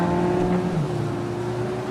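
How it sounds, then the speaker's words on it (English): A car engine runs loud and steady throughout with a deep droning rumble, the pitch sagging slightly partway through, with no talking over it. "this car is loud"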